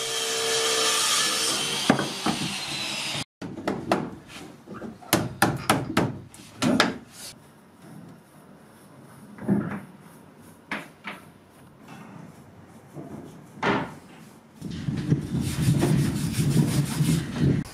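Wood is cut and worked in bursts at a mill, with rough rasping and scraping, loud stretches of mill saw cutting at the start and end, and knocks in between.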